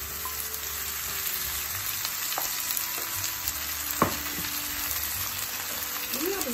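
Diced potatoes sizzle in butter with a dense, even crackle, joined by occasional scrapes and taps of stirring; no one speaks.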